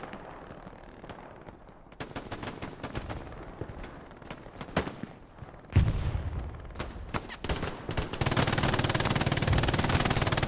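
MG42 machine gun fire in the WWII shooter Hell Let Loose, with repeated rapid bursts and scattered distant gunshots rising to heavy sustained firing near the end of a large battle.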